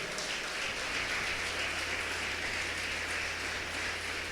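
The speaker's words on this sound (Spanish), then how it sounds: "dale un fuerte aplauso al Señor en esta hora" A congregation at an evangelical church service claps steadily in a dense, continuous wash of applause, heard somewhat distant and even throughout, with a low hum beneath.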